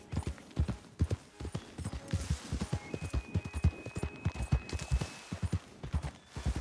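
Horse hooves clip-clopping at a steady trot in the video game Red Dead Redemption 2, a close, rhythmic, evenly paced series of hoofbeats lasting the whole stretch, with no talk over it.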